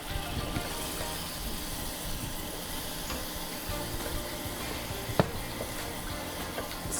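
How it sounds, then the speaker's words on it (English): Garlic sautés in a pot for broccoli cheddar soup, a steady soft sizzle with faint stirring scrapes and an occasional light clink, close and continuous at modest volume. "Let's add the garlic, and then we're going to saute that for just about another minute."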